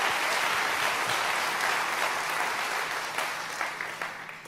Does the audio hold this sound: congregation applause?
yes